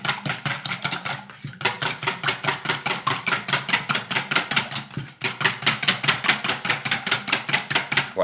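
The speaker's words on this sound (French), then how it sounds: "Et je mélange tout simplement comme un appareil à quiche" Cream and milk being whisked together for a zucchini flan batter, a fast, steady rhythmic tapping of whisk against bowl that pauses briefly twice, close and fairly loud, with no talking.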